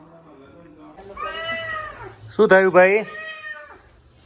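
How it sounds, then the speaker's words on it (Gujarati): A cat meows a few times nearby, with a louder drawn-out meow in the middle, while a person speaks briefly. "મીંદડા"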